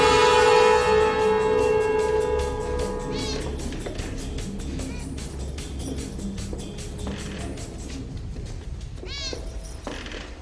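A cat meows in a scene from The Matrix, a loud close meow at the start followed by quieter mewing calls later, over a layered film soundtrack.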